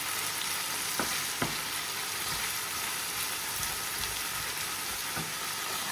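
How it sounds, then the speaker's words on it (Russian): Onions fry in a pan with a steady dense sizzle and occasional soft pops and spatters, no voices over it. "Сейчас обжарится лук немножко, и я добавлю паприку."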